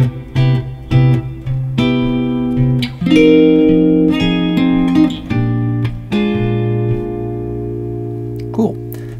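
A guitar plays chords and a melody at once, ringing notes with plucked attacks moving through a slow progression, close and fairly loud.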